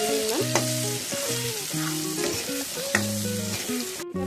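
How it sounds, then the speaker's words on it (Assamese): Jackfruit pieces fry with turmeric in a pan, sizzling steadily while a spoon stirs them in repeated bursts, with tonal clanks and scrapes near the pan. "এয়া হালধি দি দিছোঁ আধা চামুচ এইখিনি এতিয়া আমি ভালদৰে ইয়াত ভাজি ল'ম"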